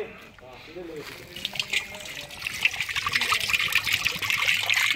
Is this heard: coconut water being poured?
yes